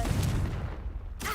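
A Confringo blasting spell explodes in Hogwarts Legacy with a loud, close, broadband boom that rumbles and rolls for about a second before cutting off abruptly.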